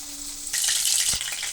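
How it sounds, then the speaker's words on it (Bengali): Koi fish frying in hot oil for a lau-koi dish: after a quiet start, a loud, steady sizzle bursts in and keeps crackling close by, with a brief stir or clatter near the middle. "আর এদিকে কই মাছগুলো ভাজা চলছে"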